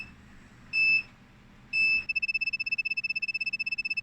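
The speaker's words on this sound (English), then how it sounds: "16 or 17 minutes in, we're getting the beeping." An Armac 650 UPS sounds two long, piercing electronic beeps separated by a short gap, then a rapid, evenly pulsed stream of shorter beeps, loud and close in a quiet room.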